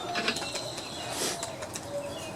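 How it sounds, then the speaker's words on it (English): A nut is worked off a Husqvarna 725AWD lawn mower, giving faint ratcheting clicks and small metallic rattles, quiet and close. "Now take the nut off."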